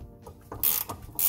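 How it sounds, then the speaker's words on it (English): A ratchet tightens a bushing nut on a 1995 Honda Civic during a polyurethane bushing install, producing a few short, close metallic ratcheting strokes in quick succession. "I'm gonna tighten it down just so it doesn't move."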